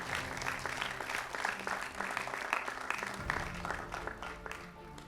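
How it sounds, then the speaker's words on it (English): A quiz competition audience claps for the contestants, a dense and steady wash of applause that holds for several seconds, with faint crowd murmur underneath. "A round of applause for the 5 contestants as we move to the second round."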